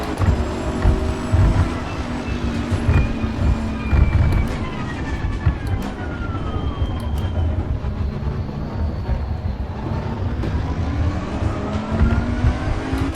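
A GT race car accelerating hard off the start in Assetto Corsa Competizione, engine roaring steadily near and loud, with rising gear pulls and other cars' engines layered underneath.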